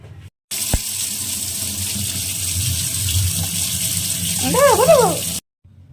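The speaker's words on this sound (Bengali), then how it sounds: "ছানা হয়ে গেছে, এখন এটাকে ছেঁকে নিতে হবে।" Whey drains from curdled milk (chhana) being strained for a cheesecake, a steady gush of pouring liquid running for several seconds, growing slightly louder near the end, with a faint vocal-like warble over it.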